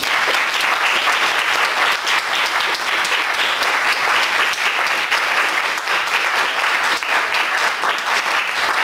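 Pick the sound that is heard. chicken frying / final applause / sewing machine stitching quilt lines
final applause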